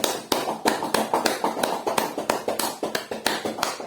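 Children in a preschool activity clap their hands and stamp their feet to imitate heavy rain, a loud, close run of sharp irregular slaps and thumps repeating quickly and steadily with no talk.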